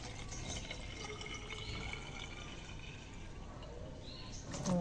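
Water poured to rinse something clean, a steady broadband splashing and trickling close by that runs the whole time, swelling slightly louder at the very end, with no talking.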